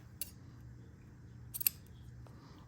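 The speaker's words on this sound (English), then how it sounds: "I'm gonna fold the end in half, and I'm gonna cut" Ribbon scissors snip through folded ribbon, with two crisp, close cuts about a second and a half apart and a faint click after, against quiet room hum.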